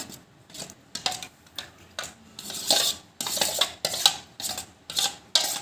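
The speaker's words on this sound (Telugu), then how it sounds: "నెమ్మదిగా కలుపుకోవాలండి మునక్కాయ అన్నీ ఒక్కొక్క దానికి పట్టాలంటే నెమ్మదిగా కలుపుకోవాలి" A spoon scrapes and clinks against a metal pot in a steady rhythm, roughly every half second, as drumstick pickle is slowly mixed with tamarind pulp.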